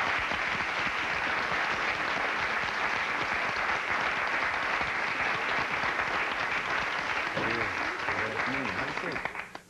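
Studio audience applauding on a television talk show, loud dense clapping filling nearly ten seconds, with a voice rising over it near the end before it cuts off.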